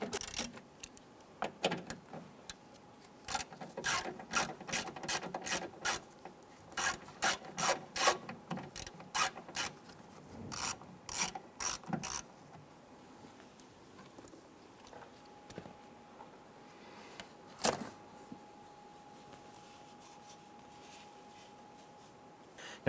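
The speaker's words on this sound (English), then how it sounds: "We have a total of 4 screws here we're going to remove." A ratchet with socket and extension clicks in rapid bursts removing screws from a 1995-2001 Ford Explorer rear door, pausing between runs, with some rubbing and handling noise and a quieter stretch toward the end.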